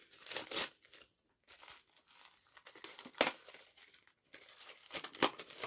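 A plastic package holding false eyelashes is crinkled and torn open close up, with crackling bursts separated by short pauses.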